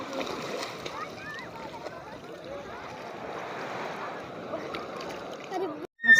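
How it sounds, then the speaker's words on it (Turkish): Shallow waves wash and splash around a young child at the seashore, a moderate churning rush with small splashes up close, while voices talk and call over it and a brief dropout comes near the end. "Anne dalganın içinde kalmaya çalışıyorum."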